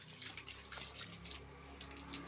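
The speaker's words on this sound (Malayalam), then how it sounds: "നമ്മൾ വെള്ളം നിറ തുടങ്ങിയിട്ടുണ്ട്" Water runs steadily from a hose into guppy fish tanks that were cleaned with potassium permanganate. It makes a faint, continuous splashing trickle with a small splash near the end.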